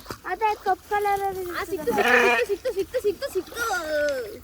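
Several sheep bleat in wavering, drawn-out calls, close by, with one louder cry in the middle; people talk over and between the bleats.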